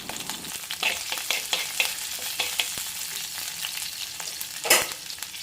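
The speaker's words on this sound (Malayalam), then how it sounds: "ആവശ്യത്തിന് കറിവേപ്പില ഈ സമയത്ത് ഇട്ട് കൊടുക്കാം" Curry leaves crackle and sizzle loudly in hot oil in a pan for a prawn and mango curry, with a sharp spattering burst near the end.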